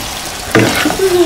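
Cumin leaves being stirred into small fish cooking with Malabar spinach in a village kitchen pan, a brief burst of sizzling and scraping that carries on steadily at close range.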